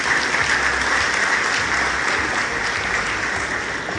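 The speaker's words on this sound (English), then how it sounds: "So please, another round of applause for him." An audience at the annual National Conference of the Pharmaceutical Society of Nigeria claps in steady, sustained applause, a dense wash of many hands that fades slightly toward the end, no speech over it.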